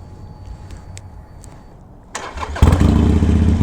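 A Harley motorcycle engine cranks and fires up partway through, then settles into a loud, rumbling idle close by, with quieter background noise before the start and no talk.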